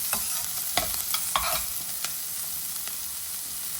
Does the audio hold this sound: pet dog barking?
no